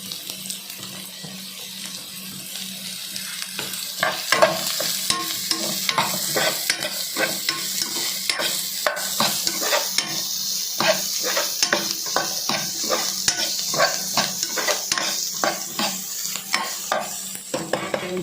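Squid chilli with capsicum sizzles in a pan while a spoon scrapes and stirs in a fast, steady rhythm, close and clear with no talking.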